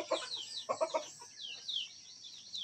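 Chickens clucking close by, a quick run of short clucks followed by softer chirps and calls, with no talk over them.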